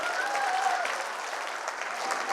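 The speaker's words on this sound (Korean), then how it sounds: "여러분 박수 한번 보내주세요." Audience applause at a Korean communication and leadership lecture, a steady dense wash of clapping filling the hall for a couple of seconds, with a faint whistle-like tone drifting through the start.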